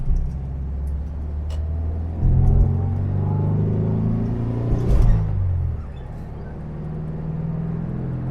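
A Volkswagen Type 3 1600 Fastback engine idles with a deep, throbbing rumble close by, revving up briefly a couple of times before settling back to a steady low idle.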